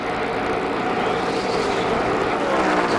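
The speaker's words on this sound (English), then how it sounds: "That engine is still running, that 97 car, folks. You can hear it." A 2003 NASCAR stock car, the number 97, runs its engine in a steady, loud, continuous roar that fills the whole moment without any speech over it.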